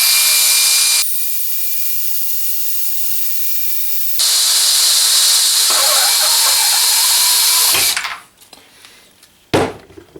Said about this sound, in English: By turning around and drilling it, it's going to force it backwards, back out the other end.